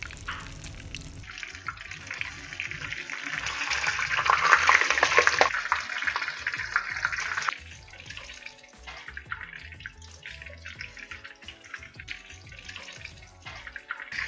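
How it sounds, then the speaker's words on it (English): Chicken lowered into hot garlic oil for deep frying, a loud burst of sizzling crackle that swells for a few seconds then settles into quieter bubbling and occasional pops. "Now that the oil is hot, we're going to put the fried chicken in."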